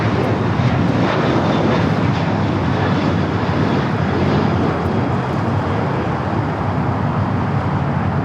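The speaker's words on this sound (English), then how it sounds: "The Asiana A380 Super heading back to Seoul, heading up to the north side." An Asiana Airbus A380 departs LAX, its jet engines delivering a loud, sustained roar that holds steady throughout without talk.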